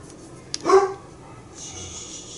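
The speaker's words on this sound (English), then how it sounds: "My apologies, I do have dogs." Household pet dogs give one short, fairly close bark amid quiet room noise, with a faint yip-like sound trailing after.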